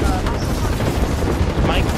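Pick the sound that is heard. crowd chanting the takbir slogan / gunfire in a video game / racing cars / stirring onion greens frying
gunfire in a video game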